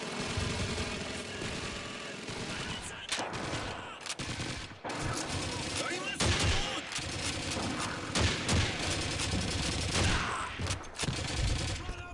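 Dense, continuous gunfire fills an oil-pipeline mission in Call of Duty 2: overlapping rifle and machine-gun bursts with heavy blasts crack loudly and nearly without pause, over a low engine-like rumble.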